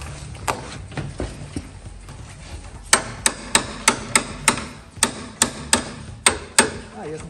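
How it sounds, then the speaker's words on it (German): Repeated hammer blows used to get a LUAZ amphibious vehicle to start, sharp metallic strikes, a few scattered at first, then a steady run of about a dozen evenly spaced, loud and close. "Also wer hier anlassen will, braucht einen Hammer."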